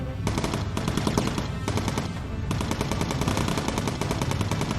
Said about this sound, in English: These two guys just open up. What are you shooting at?